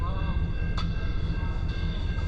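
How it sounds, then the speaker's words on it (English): A very long freight train rolls past nearby with a steady, continuous rumble and clatter, the constant grinding of railcars going on without a break, with a couple of brief high squeals. "This by far is the longest train known to man."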